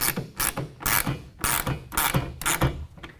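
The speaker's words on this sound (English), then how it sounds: "tighten it down with a 1/2 inch wrench or ratchet" Ratchet wrench clicking in repeated bursts of about six strokes while tightening a rail clamp for a Gator SR2 roll-up tonneau cover on a 2019 Chevy/GMC 1500 pickup bed; close, loud and sharp, with no talk.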